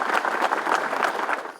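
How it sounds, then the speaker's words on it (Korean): Brief burst of audience applause in a studio, a dense steady patter of clapping that tapers off at the end. "선배님께 큰 박수 한번 드리는 시간 갖도록 하겠습니다."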